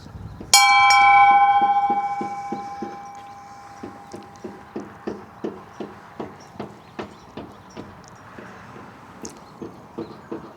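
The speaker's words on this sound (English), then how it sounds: "Let me ring the bell here." A memorial bell dedicated to fallen comrades of the Vietnam War is struck once with a loud, ringing clang that slowly decays. A long run of fainter, rhythmic knocking strikes follows.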